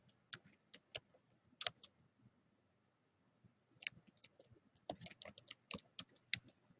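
Quick computer keyboard typing in irregular bursts of sharp clicks, with a pause in the middle and a denser flurry toward the end, fairly quiet and close with no talking.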